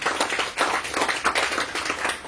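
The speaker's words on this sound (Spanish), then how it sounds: "¿Le podemos dar un fuerte aplauso al Señor Jesucristo?" Brisk clapping from a church congregation applauding the Lord Jesus Christ during a Sunday service, close and rhythmic with loud pulsing claps filling the short span.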